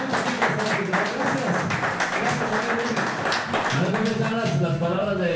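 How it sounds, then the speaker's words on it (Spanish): A studio audience claps steadily and loudly for several seconds while a voice talks over the applause. "El aplauso a nosotros mismos."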